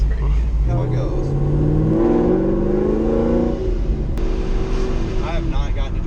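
A manual car revving and launching on a street: a loud engine rising in pitch through the gears, close and continuous, with people talking over it.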